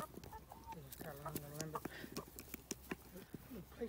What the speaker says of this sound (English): Here comes the big chickens.